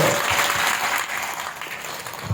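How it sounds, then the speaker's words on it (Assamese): A crowd at a Bihu celebration applauds with a broad, continuous patter of clapping that starts strong and eases slightly, heard at moderate distance without talk on top. "এটা জোৰেৰে তালি বজাই তেখেতসকলক ধন্যবাদ"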